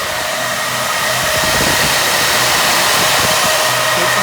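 Four Atwood cooling fans run together to cool car audio amplifiers, giving a loud, steady rushing whoosh of air up close that stays constant throughout.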